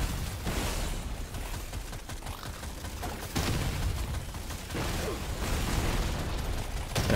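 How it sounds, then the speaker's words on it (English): Dense, continuous explosions and rapid gunfire from the video game Deep Rock Galactic: Survivor, on the Magma Core at Hazard 5, roaring loudly and steadily throughout with no talking. "That's a lot of explosions."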